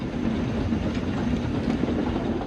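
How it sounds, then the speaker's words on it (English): A steam locomotive rumbles past close by, a loud steady roar with faint rhythmic clatter of wheels on track. "then Gordon thundered by"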